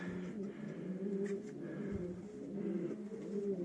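Racing pigeons coo softly in a loft, low throaty rolling calls repeating steadily from several birds, moderately close and unaccompanied by speech.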